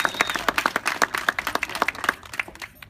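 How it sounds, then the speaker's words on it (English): Audience at a press conference for a community schools act clapping together, a dense burst of close, sharp handclaps at a brisk uneven rhythm that thins out toward the end. "So let's give her a big round of applause"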